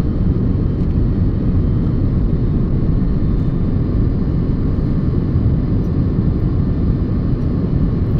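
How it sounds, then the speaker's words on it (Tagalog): Passenger jet cabin during landing, a loud, steady, close low roar of engines and airflow that continues unbroken, with no voices heard. "Lalanding na tayo. Landing."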